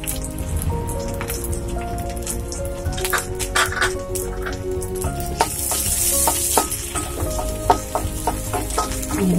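Chutney ingredients, including small gooseberries, sautéing in a pan give a steady close sizzle and frying crackle, with occasional stirring clicks and no talk.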